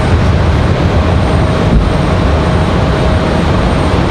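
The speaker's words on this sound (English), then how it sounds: "So wheels up for the A319." An Airbus A319 airliner takes off at Raleigh-Durham International Airport, heard as a loud, steady broadband engine roar that fills the whole stretch without easing, with no voices.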